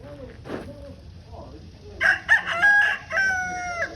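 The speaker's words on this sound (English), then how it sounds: "And there's that dang rooster again." A rooster crows at Jamestown Settlement's James Fort. The cock-a-doodle-doo is clear and fairly close and lasts about two seconds, after fainter background sounds.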